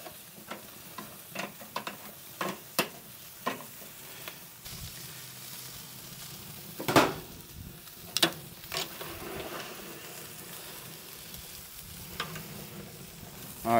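Pork ribs sizzle over direct heat on a grill as the fat renders out, giving a quiet, steady frying hiss broken by scattered sharp pops and crackles.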